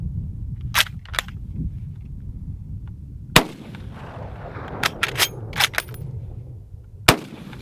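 Arisaka Type 38 carbine firing 6.5 rounds outdoors: sharp, loud rifle blasts, two especially strong ones, plus several quicker cracks spaced irregularly, each followed by a brief rumbling tail.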